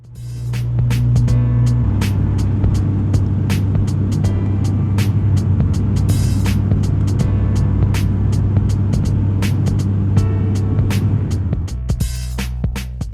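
Turboprop aircraft cabin in flight over Cook Strait, a loud unbroken drone with a deep steady hum and faint rattles and clicks throughout, heard from inside the cabin with no talking.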